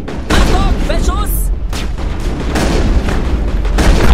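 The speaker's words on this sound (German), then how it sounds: "Achtung, Beschuss!" Gunfire and heavy booms from combat in the video game Mass Effect, a loud continuous barrage of shots and blasts with a voice talking over it throughout.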